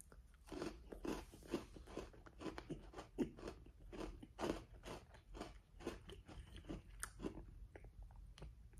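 Repeated crunchy bites and chewing of a Sour Patch Kids flavored Oreo cookie, close up, with a steady series of crisp crunches and no talking.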